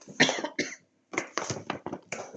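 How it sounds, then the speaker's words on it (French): A person coughs several times in quick, harsh bursts, close by, with a short pause between two fits. "j'ai toussé."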